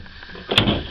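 A drawer in a Swift Corniche caravan is pulled open or pushed shut, giving one short, fairly close sliding knock with a brief rattle.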